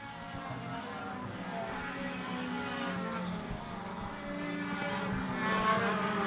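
Thunder 4 Minis race cars on a racetrack, heard as a faint, distant, continuous engine drone that rises slightly toward the end as the pack passes.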